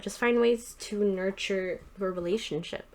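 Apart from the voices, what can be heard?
No distinct noise like a dog, phone or traffic.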